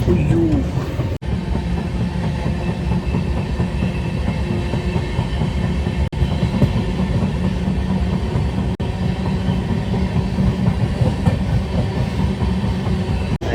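A passenger train travelling from Gulbarga rolls steadily along the rails, a loud continuous rumble with rhythmic clickety-clack and occasional sharp knocks over the joints.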